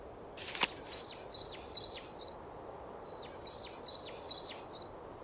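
Masked lapwing call from the Wingspan video game, two bursts of rapid, loud, repeated shrill chattering notes, each about a second and a half long, separated by a short pause, with a sharp click just before the first burst.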